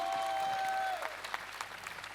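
Studio audience applauding for Mr. Kribo on an Indonesian talent show, a steady patter of claps with a sustained tone fading out after the first second.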